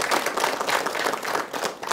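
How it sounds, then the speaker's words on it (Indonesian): An audience at a televised Islamic religious programme in Denpasar, Bali, claps in a close, dense burst of applause that stays steady throughout, with no voices over it. "Tepuk tangan untuk kita semuanya."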